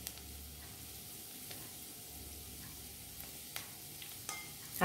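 Ginger, garlic and curry leaves sizzle quietly in hot oil for prawn sukka, with occasional clicks and scrapes of a spoon stirring the pan. There is no talking.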